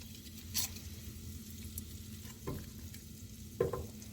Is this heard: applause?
no